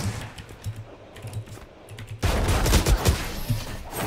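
Gunfire in the shooter Valorant: scattered sharp shots early, then a loud dense burst of rapid fire filling the second half, close and punchy with no talk.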